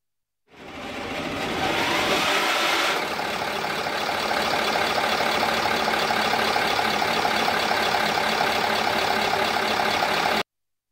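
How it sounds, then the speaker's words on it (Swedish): A vintage Scania 8 straight-six bus engine cranks and catches, then settles into a steady, loud, close idle that runs on without pause. "Den raka Scania 8 startar fint."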